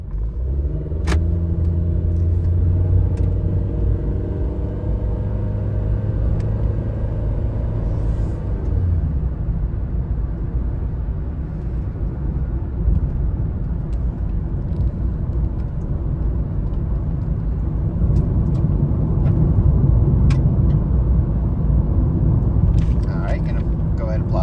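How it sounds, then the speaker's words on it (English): A 2015 Honda Fit LX on a test drive: a steady, loud low rumble of engine and road noise runs throughout, with no distinct events. "Now we're gonna go and take it on a quick test drive."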